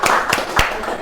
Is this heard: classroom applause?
yes